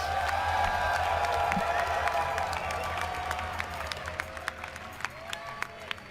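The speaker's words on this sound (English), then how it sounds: "Give it up for Acer Scarlett." A live crowd at a Red Bull Battle Grounds StarCraft esports event in New York applauds and cheers as a player is introduced. The applause is a broad, steady wash that fades into scattered claps and whoops.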